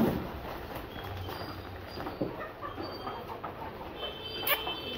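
A hen clucks in short, scattered bursts, fairly faint against a busy outdoor background with other small movements and noises.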